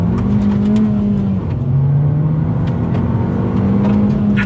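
A 2019 Abarth 595 Esseesse engine revs hard nearby, its loud rasping note climbing and dropping between throttle blips with a brief dip midway, no voices.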